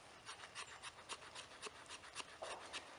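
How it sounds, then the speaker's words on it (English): A knife spine scrapes shavings off a fatwood stick in wet outdoor conditions, a quiet run of short, rhythmic rasping strokes repeated about a dozen times, close by and with no talk. "Take the back side of your knife where it's got a sharp spine on it, and I'm going to get some finer shavings off of this"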